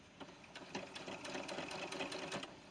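A sewing machine runs a steady rapid stitch along the edge of a doll blouse with a Peter Pan collar, a quiet close-up whirring with faint rhythmic needle taps and no talk.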